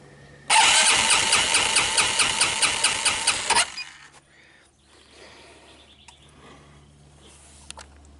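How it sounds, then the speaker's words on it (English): A 2002 Linhai Big Horn engine with a compression gauge attached cranks over for about three seconds in a loud, rhythmic chug of starter whirs, then stops, leaving faint background noise. "I put the compression gauge on there, and let's turn it over"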